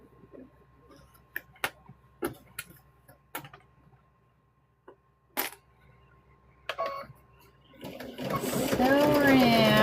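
Sewing machine stitching around a fabric welding hat, a run of sharp separate clicks and short bursts close up, followed by a person speaking at the end.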